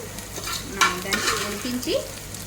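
Dried prawns fry in a pan while being stirred, giving a close crackling sizzle with repeated scraping strokes and brief higher squeaks from the utensil.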